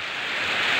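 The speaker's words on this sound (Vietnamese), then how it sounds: "chuẩn bị đón rằm trung thu của các con mà trời mưa tầm tã cả nhà" Heavy rain falls as a dense, steady hiss, loud and continuous, with no voices.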